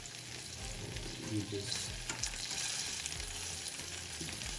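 Soft roasted garlic cloves sizzle and fry in hot olive oil with a steady close crackle and occasional stirring, while a voice speaks briefly.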